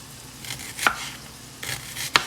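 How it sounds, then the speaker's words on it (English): A kitchen knife thinly slicing onion on a board while beef cooks nearby. Two crisp, separate cuts stand out over a quiet background hiss. "I'm just gonna thinly slice some onion."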